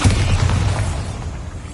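A Bombarda blasting spell explodes in a Harry Potter video game, a loud, close boom with a deep low rumble that decays over under two seconds, heard alone.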